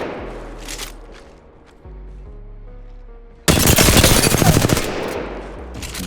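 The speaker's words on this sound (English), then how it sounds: "I'll start here, and I'll just one clip it with both guns." Apex Legends gunfire: a short burst then a long rapid stream from an R-301 and a second gun unloading on a training dummy, loud and close, preceded by quieter game ambience.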